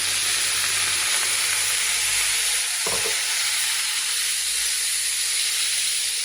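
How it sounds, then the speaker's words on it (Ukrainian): Chicken liver sizzles in a hot pan as soy sauce is poured over it, a steady loud frying hiss with a brief stir or splash midway and no speech. "Зменшую вогонь на середній, поливаю печіночку соєвим соусом."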